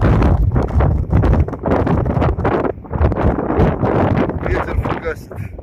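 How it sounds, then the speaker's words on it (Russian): Strong wind gusts across the Azov Sea shore near Temryuk, battering the microphone with loud, continuous rumbling buffets that rise and fall throughout. "Ветер фугасит."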